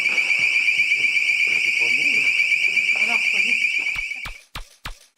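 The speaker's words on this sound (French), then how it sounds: "un détecteur de mouvement se déclenche sans raison apparente" A motion detector alarm goes off with a loud, steady high-pitched electronic tone that runs continuously, then cuts out into a few short sharp clicks, with voices faintly underneath.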